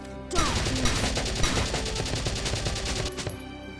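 Enemy gunfire in Valkyria Chronicles 2, a dense, rapid fusillade of shots running almost continuously for about three seconds, loud and close, then cutting off abruptly.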